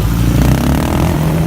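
A camping motorcycle accelerates onto a dirt road, its engine a loud, close, throbbing low rumble with steady firing pulses and some rattling, and no voices.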